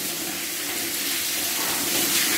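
Water flowing through the rock-cut Ain al-Hawiya spring tunnel in Husan, a close, steady hiss and rush of moving water with no break.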